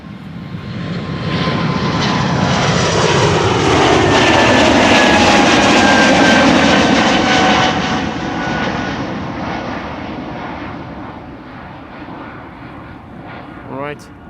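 Airliner taking off from the Polderbaan runway at Amsterdam Schiphol in windy weather, a loud sustained jet engine roar that swells, peaks and slowly fades as the aircraft climbs away, with wind buffeting throughout.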